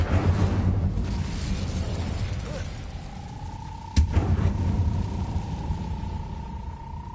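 A fire spell cast in the Hogwarts Legacy video game: a sudden burst at the midpoint over a steady rumbling game background, followed by a sustained ringing tone.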